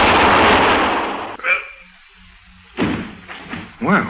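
A gunshot sound effect in an old radio crime drama: a sharp, loud report followed by a quieter pause, then several more bursts of clipped, forceful sound as voices speak between them.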